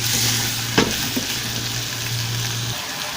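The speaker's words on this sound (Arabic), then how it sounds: "اشوح بقى فيها كويس قوي كده شويه، ننزل ميتها مع البصل وتشربه" Tripe sautés with onions in a pot, giving a loud, continuous sizzle broken by a couple of sharp clacks from a stirring utensil, close up with no talking.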